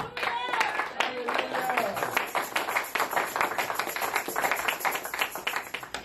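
A church congregation claps in rhythmic bursts through a sermon, the applause mixed with raised voices calling out.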